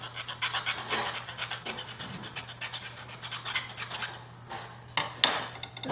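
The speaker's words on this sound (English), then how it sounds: "So again, you have to use the file." A metal file rasps back and forth across plated yellow brass in steady, rhythmic strokes, close and scratchy, with a couple of brief pauses near the end.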